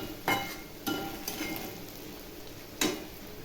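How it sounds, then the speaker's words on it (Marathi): Ground peanut, coconut and green chili paste sautés with potato in a pan, a soft continuous sizzle broken by three or four sharper scraping stirs and no speech. "शेंगदाणे आणि खोबऱ्याचं मिरचीचं चांगलं परतून घ्यायचं."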